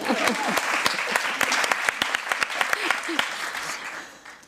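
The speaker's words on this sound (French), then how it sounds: "Vous pouvez applaudir." Audience at a French feminist book event breaking into sustained applause, dense clapping with distinct sharp claps and a few voices, easing off toward the end.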